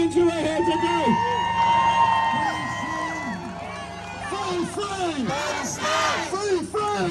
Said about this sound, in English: let's have the biggest round of applause of all for all the Palestinians who are here today